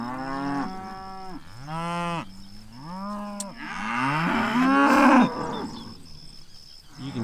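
Mashona cross cattle bellowing during weaning, a run of loud, drawn-out moos one after another, close and clear with little else around them.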